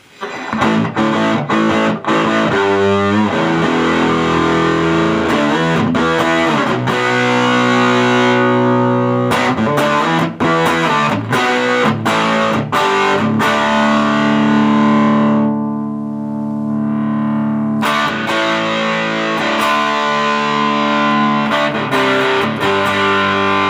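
An electric guitar through a Greer LightSpeed Organic OverDrive pedal plays loud, gritty riffs and ringing chords, with choppy palm-muted bursts, sustained crunchy notes and a brief quieter stretch.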